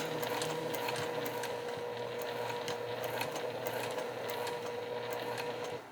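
A sewing machine runs steadily as it back stitches and then follows a curved seam on a Lola Bag, giving a close, continuous mechanical whir with no talking.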